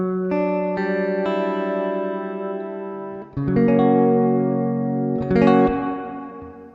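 Sustained tones from an instrument run through stacked Collider delay and reverb effects ring out, shimmering and echoing as layered notes overlap, fading and swelling, then re-striking brighter chords partway through, with no talking.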